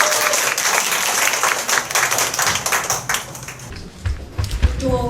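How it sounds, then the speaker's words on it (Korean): Applause from a crowd at a political party women's committee workshop in Dongjak-gap, dense and sustained before thinning out, with a voice starting to speak as it fades. "다시 한번 박수 한번 부탁드립니다."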